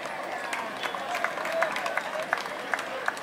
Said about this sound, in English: give a round of applause for an outstanding bowling performance to Abhinesh Bahara.